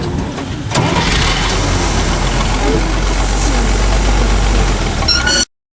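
A safari truck's engine turns over and settles into a steady, loud idle close by, running evenly until it cuts off abruptly near the end.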